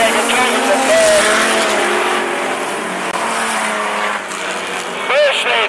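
Outlaw sprint sedans race around a speedway oval at night, a loud, steady roar of several engines with tire squeal near the end, while an announcer calls the race over it.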